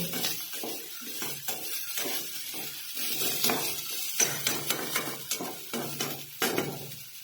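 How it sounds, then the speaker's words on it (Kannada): Onions frying in a kadai: a soft sizzle beneath repeated scraping and clinking as a spoon stirs against the pan, irregular strokes close by and fairly quiet, with no talk. "ಉಳ್ಳಾಗಡ್ಡಿ ಎಲ್ಲ ಹಾಕೇನ್ರಿ ಅದ್ರಾಗ ಕಡಾಯಿ ಒಳಗ. ಅದು ಸ್ವಲ್ಪ ಬೇಯಲಿ"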